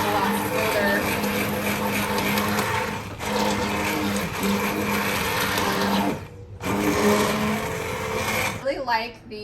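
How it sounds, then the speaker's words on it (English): Immersion blender pureeing homemade applesauce, a loud steady motor whir with churning wet texture, briefly stopping and restarting, then winding down at the end; a voice is also present. "I got this like super smooth just with that little immersion blender"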